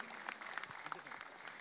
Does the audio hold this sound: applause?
yes